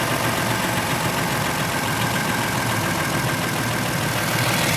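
A Ford F-150 pickup engine idles steadily and loudly at close range, a dense continuous drone with a faint ticking texture running through the whole stretch, no talk over it.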